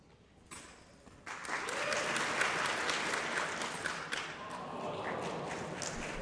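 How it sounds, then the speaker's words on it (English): A crowd at a sword-cutting finals bursts into sustained applause and cheering after a quiet moment, the dense clapping holding steady and fairly distant for several seconds. "It's so great to have crowd reactions for this."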